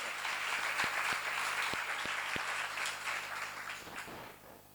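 Brief round of audience applause at a church seminar, a dense wash of clapping with a few sharper individual claps, moderately loud and fading toward the end.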